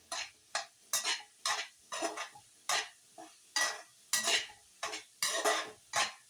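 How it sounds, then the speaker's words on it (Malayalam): Already-cooked soybeans are stirred and sautéed in a pan, with a spoon scraping in regular strokes about twice a second. Each pass sounds close and crisp, with light sizzling between strokes and no talking. "ഓൾറെഡി വെന്തതായതുകൊണ്ട് കുറച്ച് സമയം ഒന്ന് വഴറ്റുമ്പോഴത്തേക്ക് സോയാബീൻ റെഡിയാവും"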